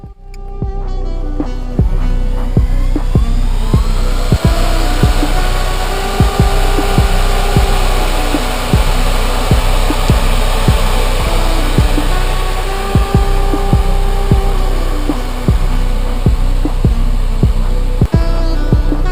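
Bitcoin and Kaspa mining machines switched back on, their cooling fans settling into a loud, steady, droning whir with a regular rhythmic throb running throughout, close and continuous with no talking.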